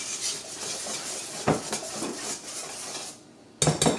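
A spatula scrapes the sides of a bowl of oat and banana pancake batter made without flour, giving a few short, close scraping and clinking strokes, with a brief pause near the end before more scraping.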